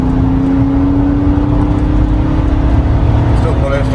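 BMW 5 Series accelerating hard on a wet road, a loud, steady engine drone pulling with a constant rising tone and road noise beneath, close up with no break.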